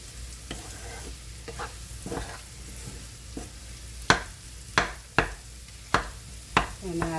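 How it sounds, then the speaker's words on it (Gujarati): A spoon stirs fenugreek seeds roasting in a pan over a low flame for methi paak, a soft constant sizzle broken by periodic sharp scrapes and taps against the metal, close and steady with no talking. "એકદમ ધીમા ગેસે આપણે શેકીશું."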